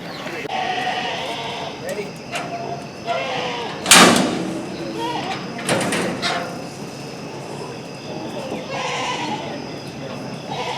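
Kiko goats, a New Zealand breed, bleat in a pasture in Georgia, with several loud calls standing out over steady background noise while people talk nearby.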